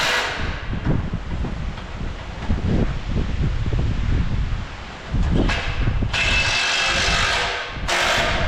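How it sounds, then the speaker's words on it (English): A 3/8-inch impact wrench runs in steady rattling bursts outdoors, loud and close, with wind buffeting the microphone throughout. "this is just a 3/8 impact"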